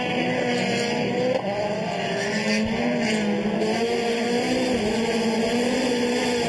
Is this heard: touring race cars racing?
yes